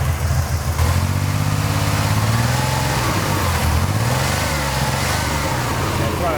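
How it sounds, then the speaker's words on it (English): A GMC Syclone truck engine is given gas and runs rough with a misfire, a steady, close, rumbling drone that holds for several seconds without talk. "once you give it some gas, it definitely misfires"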